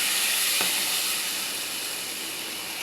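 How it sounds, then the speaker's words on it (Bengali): Water poured into a frying ginger-garlic paste with salt, turmeric and chili gives a steady, loud broadband sizzle and hiss that slowly eases, with one brief sharp tick early on. "এখন আমি একটু পানি দিয়ে দেবো"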